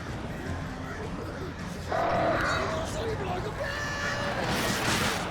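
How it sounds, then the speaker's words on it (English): Crows attack in the video game Alan Wake Remastered, with harsh cawing and flapping bursts rising over a dark rumbling ambience, growing louder midway and persisting under a voice. "The birds."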